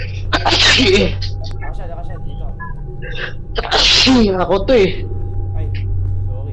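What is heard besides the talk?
sneeze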